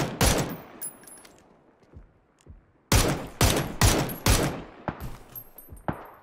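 Rapid bursts of automatic gunfire in the PUBG battle royale game: a near, loud volley at the start, then a dense string of heavy shots after a brief lull, trailing off into scattered fainter reports.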